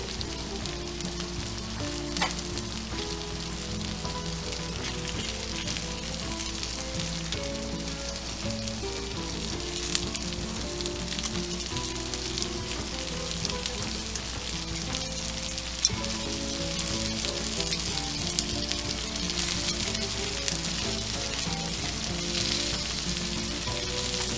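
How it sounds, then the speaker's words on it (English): Shrimp hit a sizzling seafood paella pan, producing a continuous, dense hiss and crackle of frying rice and broth, steady and fairly close without pauses or talk. "now we're going to add the shrimp"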